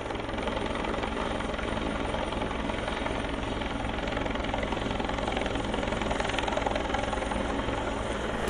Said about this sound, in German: Nach rund 10 Minuten steht der Hubschrauber in der Luft über der Alm.